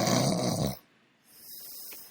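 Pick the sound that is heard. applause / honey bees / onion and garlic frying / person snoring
person snoring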